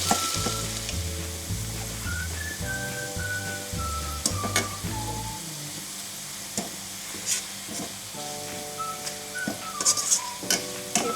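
Onions fry in butter toward dark brown, sizzling steadily under a loud tonal melody of shifting musical notes, with scattered scraping and clinking spikes from stirring in the pan.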